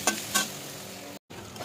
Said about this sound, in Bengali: এবার এটা কড়াইতে দেবো, বড়া ভাজবো